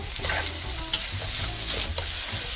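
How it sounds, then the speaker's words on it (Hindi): Onions frying in a pan for stuffed bitter gourd with minced meat, a steady close sizzle with light stirring scrapes and a few brief clinks throughout, no voices. "साथ ही मैं इसमें प्याज डाल दूँगी भून लेंगे"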